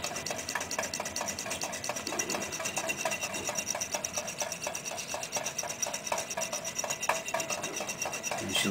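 Small upside-down Stirling engine with a rubber band, running on after its flame has gone out, giving a fast, faint, continuous rasping and clattering mechanical rhythm heard up close with no talking.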